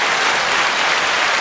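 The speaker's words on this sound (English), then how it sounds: "You get a round of applause," A steady round of applause from a crowd fills the whole moment with dense, even clapping that stays loud and constant without a break.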